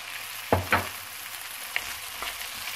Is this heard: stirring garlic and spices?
yes